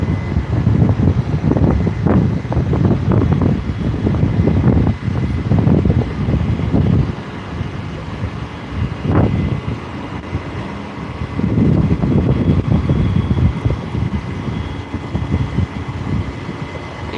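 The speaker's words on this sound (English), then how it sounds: "it's a little windy out here" Gusty wind buffets the microphone outdoors in loud, rumbling bursts that come and go, easing in the middle before picking up again.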